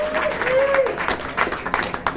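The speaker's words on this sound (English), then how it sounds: "she deserves applause" Brief applause from a crowd at an election victory speech in Milwaukee County, a short burst of clapping mixed with a speaking voice and room echo.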